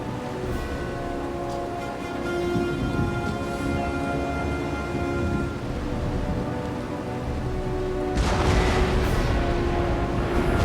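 Naval cannon fire aimed at the ship Santissima in Napoleon: Total War, sounding as a steady roar of broadband booms and rumble, with a louder burst of blasts near the end.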